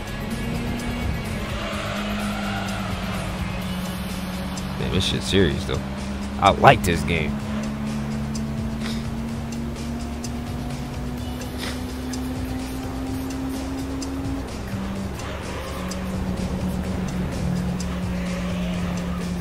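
Race car engine from the video game Gran Turismo 3 holds a steady droning pitch throughout, with a brief cluster of tire squeals near the middle, while someone talks over the game sound.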